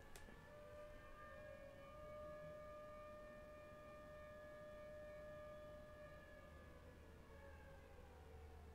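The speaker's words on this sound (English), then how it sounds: "Why does it sound like there's 15 tornado sirens going off?" Tornado sirens wail in a tornado survival video game, several steady overlapping tones droning together at a distance, faint and unbroken, with no voices over them.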